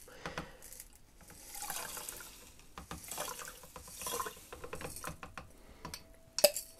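Sodium thiosulfate crystals poured into hot water give a soft, continuous rustling trickle with scattered small taps, faint and close, ending in a sharp clink.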